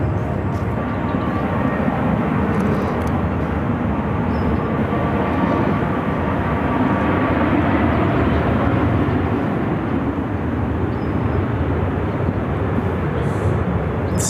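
A Southwest Boeing 737 departing runway 25 right at Phoenix Sky Harbor, a steady broadband jet engine roar rising to full takeoff power and holding loud and unbroken throughout, with no talk over it.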